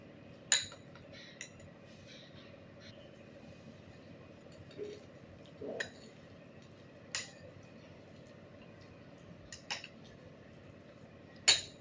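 Spoon clinks sharply against a bowl while mixing amla paste, a handful of isolated metallic taps spread over a steady low background hum, fairly close.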